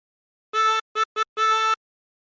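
Four breathed notes on the top hole of a tremolo harmonica: a longer note, two short ones, then another held note. Each is bright, shimmering and close, with clean silence between them.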